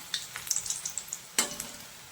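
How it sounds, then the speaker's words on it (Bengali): Vegetable chops frying in hot oil, a crisp crackling sizzle with rapid irregular pops and spits, one sharper burst partway through, fairly close and with no voices. "চপগুলো উল্টে পাল্টে লাল লাল করে ভেজে নিয়েছি"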